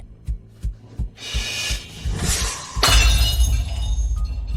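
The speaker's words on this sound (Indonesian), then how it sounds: "cepat ambil pecahan kacanya" Glass shatters: a few sharp knocks lead into a loud crash, then a burst of tinkling, scattering shards that rings on for a couple of seconds, close and alone with no talking.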